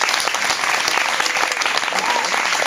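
Audience at a concert in the Monestir de les Avellanes breaking into brisk, dense applause, sustained and evenly loud across the moment.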